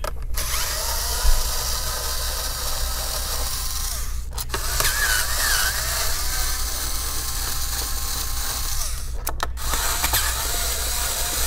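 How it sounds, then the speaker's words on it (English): A handheld electric screwdriver whirs in long steady runs, removing screws from an Asus TUF F15 FX506L laptop, with brief pauses between screws and a constant close buzz. "I'll be using a electronic screwdriver here"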